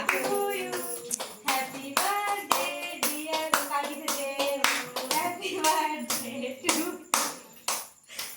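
Several people clap their hands loudly in quick, uneven bursts at close range, with voices talking over and between the claps, during a home Karva Chauth puja and birthday celebration.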